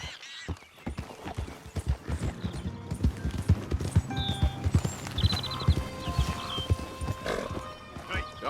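Horse hooves pounding in a rapid galloping rhythm in Red Dead Redemption 2, with whinnies and snorts over the thudding beat and game sounds in the background, loud and close.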